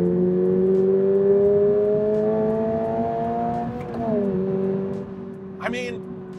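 A naturally aspirated 2022 Toyota GR86 accelerates hard, its engine note climbing steadily in pitch, briefly dipping at a shift, then rising again before fading, moderately loud and close.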